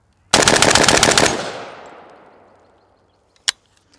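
A PSA 300 Blackout Krink rifle firing reloaded ammunition lets off a rapid full-auto burst of about a second. Its sharp reports ring out and echo away outdoors, and a single sharp clank follows shortly after.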